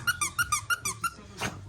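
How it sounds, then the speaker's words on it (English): A squeaky bat-shaped dog toy squeaks about seven times in a quick, even rhythm, close and bright, followed by a brief rougher burst. "Does it squeak?"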